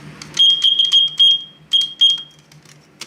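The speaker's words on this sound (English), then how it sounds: "The Firefighter smoke alarm." A Fyr Fyter 3000 smoke alarm sounding, loud, close, piercing high beeps in quick bursts, with some clatter around them.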